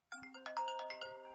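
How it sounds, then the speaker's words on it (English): A mobile phone ringtone plays during a live talk, a bright melodic tune with steady sustained tones that starts abruptly and carries on without pause, clear and fairly close, with no talking over it. "Excuse me, turn my phone off."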